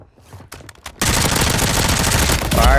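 Dense, rapid automatic gunfire from an MP5 submachine gun in a shooter video game bursts in loud and close after a brief quieter stretch, then rattles continuously without a break.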